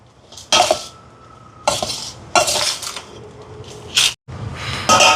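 A spoon stirs a prawn puttu mixture in a pot with loud, close scraping and clinking strokes, five separate bursts spaced irregularly with quiet gaps between them.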